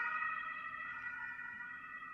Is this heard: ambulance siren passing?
yes